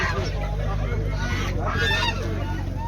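Chickens squawking and calling at a crowded poultry market over a steady low hum, with faint voices in the background.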